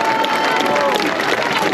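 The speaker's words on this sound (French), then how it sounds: "un dernier tonnerre d'applaudissements" A rally crowd, gathered in support of the police, fills the air with a dense, loud wash of applause and cheering that carries evenly through a short stretch.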